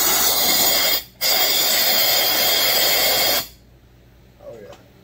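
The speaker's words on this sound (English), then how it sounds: "I am going to blow down in the cylinder because I washed it." Compressed air blasts into the cylinder of a Stihl 064 chainsaw through the spark plug hole after a brake cleaner wash, two loud close hissing bursts split by a brief break, then quiet.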